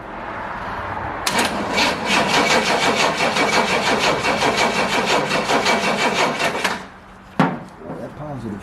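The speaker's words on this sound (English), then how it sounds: "I'm just going to go ahead and turn it over with the remote starter" A 1970 Pontiac LeMans Sport convertible engine cranks over on a remote starter for about five seconds in a steady rhythmic churn, then stops, followed by a brief second bump.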